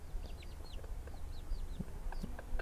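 Backyard chickens clucking softly while pecking at thrown edible berries near a compost pile, with several short overlapping clucks and chirps close by.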